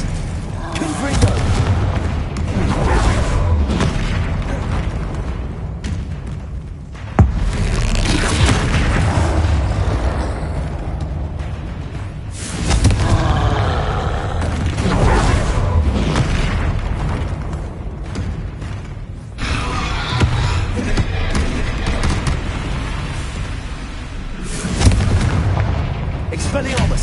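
Repeated Confringo fire spell blasts in the Hogwarts Legacy video game: a dense run of loud booming explosions and bursts, one after another throughout, layered with game effects and occasional shouted spell voices.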